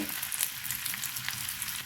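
Crushed garlic, short chillies and curry leaves crackle in hot tempering oil, a steady close-up sizzle with small pops throughout.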